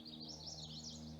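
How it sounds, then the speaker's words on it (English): A hooded warbler sings a brief, bright, high warbling phrase, faint and somewhat distant over a low background hum in the Pennsylvania mountains. "hooded warbler."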